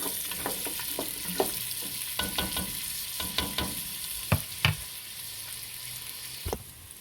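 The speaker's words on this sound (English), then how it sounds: "Once we get the bacon flavor in with this, we get our onions and that all cooked" Bacon and onions fry in a pot for potato soup, a steady sizzle broken by repeated scraping and knocking of a stirring spoon, close and moderately quiet.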